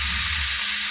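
Lamb hitting a hot frying pan gives a loud, steady, close sizzle that holds as one continuous hiss for about a second, with no talking.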